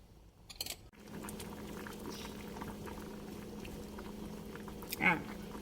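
A pot of Thai fermented-fish curry with black ear catfish, coconut and long beans boils with a steady, soft bubbling, after a brief knock near the start and a small splash toward the end.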